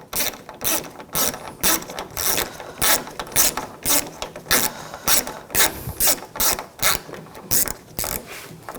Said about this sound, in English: There's a screw right behind here. You want to loosen that screw up.